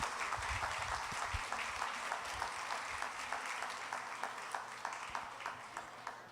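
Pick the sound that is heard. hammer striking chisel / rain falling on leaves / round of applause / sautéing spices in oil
round of applause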